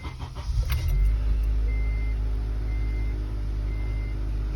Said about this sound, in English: Don't worry about the beeping,